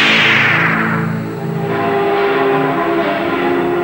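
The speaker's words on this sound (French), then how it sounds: "Les cloches carillonnent" Church bells ringing out loud and close, layered tolling tones sustained and overlapping throughout.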